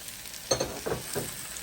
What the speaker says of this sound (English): So after about 40 seconds of sauteing, I'm going to add the diced potatoes.